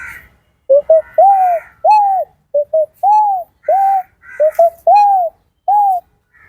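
A human voice imitates a pigeon's cooing with a steady run of short, soft, rounded coos in quick groups of one to three, close and clear with no other sound around.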